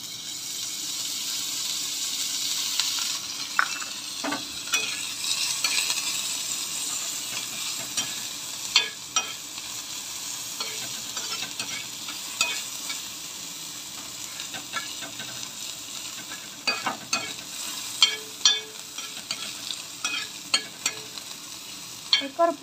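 Onion sizzles and fries in hot oil in a pan, a steady soft hiss with intermittent scraping clicks of stirring and a few sharper knocks, fairly close and alone.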